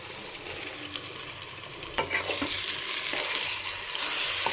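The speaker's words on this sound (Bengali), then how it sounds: "এখন মাংসের টুকরোগুলো এই মশলার মধ্যে দিয়ে দেব" Chicken pieces drop into hot spice masala for a papaya chicken kosha and sizzle steadily and loudly, with one sharp knock and the scrape of stirring in a close pan.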